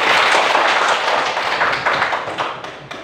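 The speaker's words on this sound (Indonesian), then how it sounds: "Tepuk tangan dulu" A classroom of schoolchildren clapping their hands together, close and loud, a fast dense burst of claps that tapers slightly over a few seconds.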